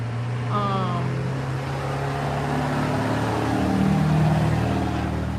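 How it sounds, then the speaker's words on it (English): A loud car passing close by, a low engine rumble that builds and swells over several seconds beneath a person talking. "loud ass fucking car"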